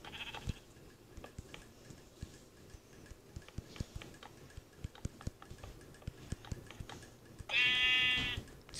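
Minecraft sheep gives a single clear synthetic bleat near the end, after a stretch of soft clicking keyboard and mouse taps while building train tracks in the game.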